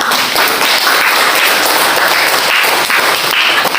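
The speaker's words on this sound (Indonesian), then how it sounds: "Tepuk tangan" Students in a classroom clap together on cue, a loud, dense burst of hand claps that stays close and continuous for a few seconds.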